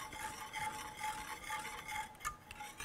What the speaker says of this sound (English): you wanna make sure to keep your whisk running through the yogurt so that it doesn't curdle